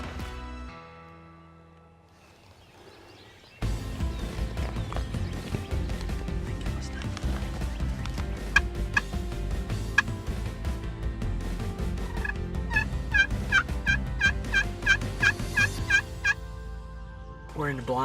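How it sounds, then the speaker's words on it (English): A wild turkey tom gobbles in front of a hunting blind in Ohio, repeated bursts over a steady outdoor background that grows busier with rhythmic calls, clear and fairly close. "We already got a Tom in front of us, and he's gobbling"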